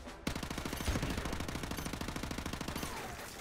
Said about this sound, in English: the recoil on the gun is fucking insane